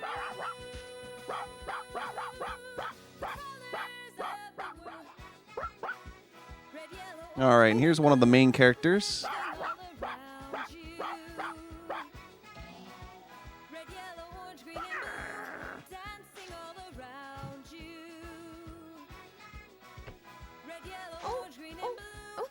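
A cartoon dog character in a Magic Pengel cutscene lets out short yips and barks amid playful game music, with a burst of excited vocalizing in the middle and someone talking over parts of it.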